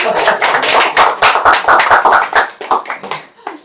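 An audience claps for a professor at a book-talk launch event, a close burst of irregular hand claps that thins out into a few scattered claps near the end.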